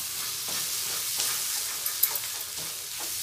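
Egg pepper fry with fried onion and tomato sizzles steadily in a pan while a utensil stirs and scrapes it, giving a few sharp clinks near the end, close and alone with no talk.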